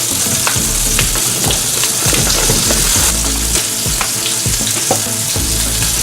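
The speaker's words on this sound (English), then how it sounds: "now in that same pot of boiling water, we're going to add the gnocchi in and let it cook" A pot of water bubbles and churns steadily as gnocchi go in, dense crackling and clicking with scattered splashes and knocks, close and continuous with no talking.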